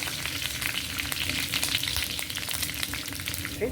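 Mustard seeds crackling and sizzling in hot coconut oil for a tempering for an amaranth stem stir-fry: a dense, continuous, close frying crackle with no talk.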